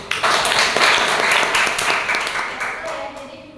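Students in a classroom clap together after a lesson on supply and demand, a dense burst of applause that starts at once and slowly fades over a few seconds.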